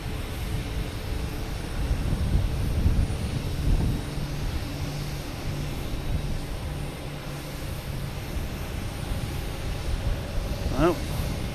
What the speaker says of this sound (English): Okay, we have American heading to St. Louis. E175, flight